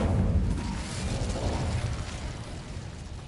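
An Incendio fire spell is cast in a Hogwarts video game, a burst of roaring flame that whooshes loudly at first and then gradually tapers off, with no talking.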